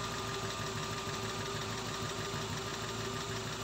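A Toyota car engine idling after an idle adjustment, a steady, even low hum that holds without change, heard alone at moderate distance.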